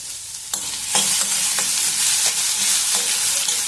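Potatoes frying in a pan with salt for lemon rice, a loud, constant sizzle that swells after a moment, with a few soft scrapes of stirring and no voices.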